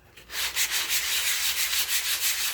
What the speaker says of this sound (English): this is a piece of 220 grit sandpaper. I cut it in half and then I fold each half in half